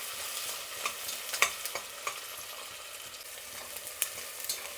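Sliced onions fry in a pan with a soft, continuous sizzle, broken by light scrapes and clicks of stirring, close and fairly quiet.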